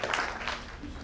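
Applause from an audience at a national nutrition campaign closing ceremony, a short burst of clapping overlapping with a voice speaking.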